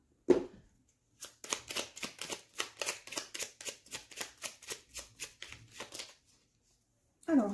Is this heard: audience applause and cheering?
no